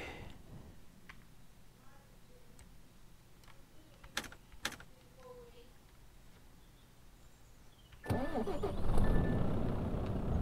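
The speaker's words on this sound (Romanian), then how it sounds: "Porniți motoarele." A truck engine in Euro Truck Simulator 2 cranks and starts near the end, rising into a loud, rumbling idle. Before that come scattered keyboard taps and clicks over a quiet background.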